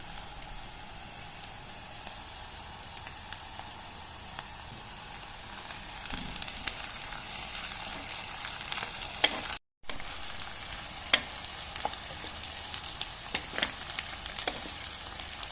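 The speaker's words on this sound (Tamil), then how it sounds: "இப்போ எல்லாமே இந்த வெங்காயமெல்லாம் நல்லா பொரிஞ்சிட்டுது" Onions and curry leaves fry in a pan for bitter gourd curry, a soft, steady sizzle with faint crackles and occasional stirring clinks throughout.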